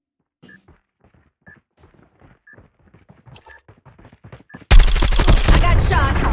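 Phantom rifle fire in Valorant erupts as a loud, dense burst of rapid shots near the end, after a stretch of quieter game sound effects and beeps.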